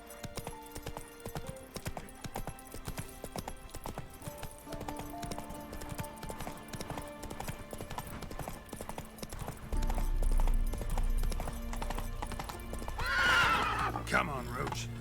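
In The Witcher 3, the horse Roach gallops with quick, steady clip-clop hoofbeats, then lets out a loud neigh near the end, with a voice talking over parts of it.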